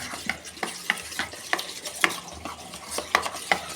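Chili powder, cumin powder and turmeric being stirred in a hot pan for aloo dum, with a constant sizzle and quick, repeated spatula scrapes and clicks against the metal, close and alone.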